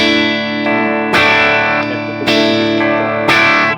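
Distorted electric guitar set up with a mini humbucker and a full humbucker, strummed chords ringing out loud and sustained, with a fresh attack roughly every second and no voices.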